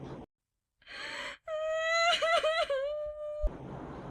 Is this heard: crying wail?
yes